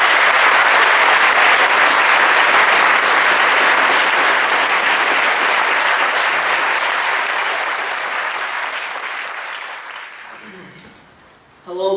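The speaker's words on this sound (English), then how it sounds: "Please join me in giving our students a round of applause." Loud sustained applause from the audience at an 8th grade celebration for the graduating students, a dense roar of clapping that slowly fades over about ten seconds and then stops, followed by a brief pause and the start of a voice.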